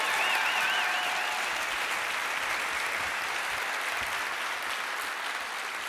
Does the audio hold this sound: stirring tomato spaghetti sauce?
no